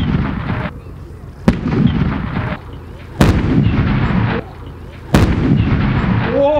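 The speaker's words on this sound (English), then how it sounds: "there is a JDAM, an airstrike coming in for you right now" A simulated JDAM airstrike sets off pyrotechnics at an outdoor military tank display show, with three loud, sharp blasts a second or two apart, each followed by a heavy rolling rumble.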